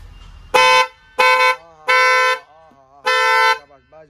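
Strong car horn giving four loud honks, the third held longest, with quieter sounds between blasts, close and dominant.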